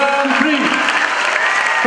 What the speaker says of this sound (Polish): Wielkie brawa, big applause!